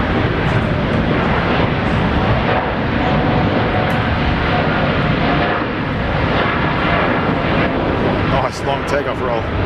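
A passenger airplane makes a long takeoff roll at Brisbane Airport, its jet engines producing a loud, sustained broadband roar that holds steady throughout, with a faint voice briefly audible.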